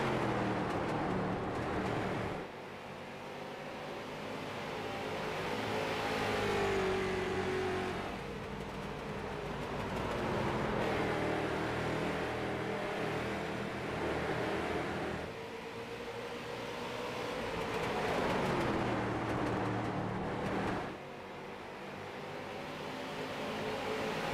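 Stock cars racing at Five Flags Speedway roar past in repeated waves, engines rising and falling as each pack sweeps by, loud and sustained with traffic-like rumble between passes.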